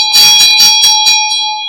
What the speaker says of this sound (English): not Tibetan bowl, Tibetan bell